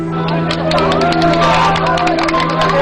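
Crowd at a Nepal earthquake rubble rescue site claps and cheers after a trapped woman is freed, a dense burst of applause with voices mixed in, close and loud throughout.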